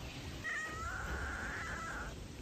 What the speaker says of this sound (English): So I have the shop cat now. Oh, hello. Anyway, I have the shop cat now. That's what's in the background.